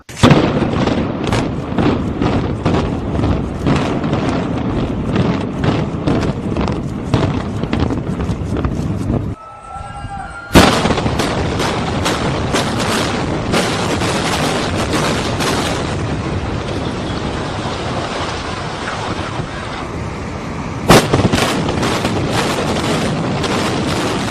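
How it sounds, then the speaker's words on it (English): Repeated loud booms of explosions near the World Trade Center during the September 11 attacks, a dense run of heavy blasts broken by one brief lull before the booming resumes. "I think I know an explosion when I hear it."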